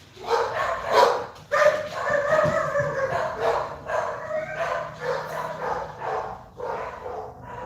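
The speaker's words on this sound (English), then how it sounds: "my dogs went crazy for Sagittarius and Virgo" Dogs bark repeatedly and excitedly at close range, with overlapping yips and whines filling the whole stretch.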